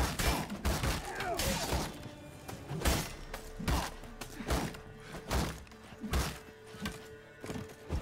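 Combat in The Witcher 3: Hearts of Stone, a series of sharp thuds, impacts and crashing hits repeating irregularly at moderate level, with no talk over them.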